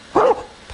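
A cartoon dog lets out one clear, close bark, with a second bark just starting as the sound ends.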